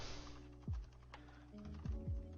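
Several quick keystrokes tap on a computer keyboard, close and quiet, in a short irregular burst with small pauses between clicks.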